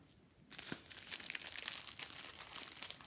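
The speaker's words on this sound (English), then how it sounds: "Sorry for the crinkle, can't avoid it, especially when they're adult proof, you can't get into it." A plastic bag of diamond painting drills crinkling after a short quiet start, with continuous close, busy crackling and rustling as it is handled and squeezed.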